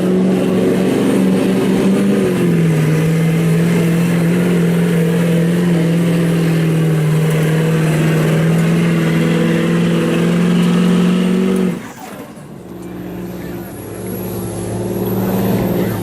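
A Chevy street diesel truck at a truck pull holds a loud, steady engine drone for about eleven seconds, then cuts off abruptly and rises again, with a crowd and voices underneath.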